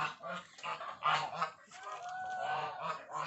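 Geese honk repeatedly on a duck farm that raises mixed poultry, a string of loud, close, nasal calls overlapping in a busy chorus with no talk.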